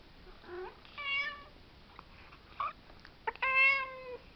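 A cat meows several times in short, separate calls, fairly close and clear against a quiet background, with no talking.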